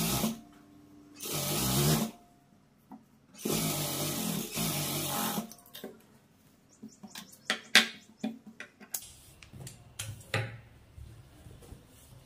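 Sewing machine top-stitching along the folded edge of a blouse: two sustained runs of motor whir, followed by scattered ticks and clicks as the fabric is handled, all without voices.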